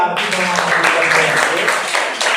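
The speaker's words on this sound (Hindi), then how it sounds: "चलिए आरती के लिए ताली बजाइए" Applause for Aarti, a participant in a Hindi general-knowledge quiz activity, a loud continuous wash of clapping filling the short moment, with murmured voices mixed underneath.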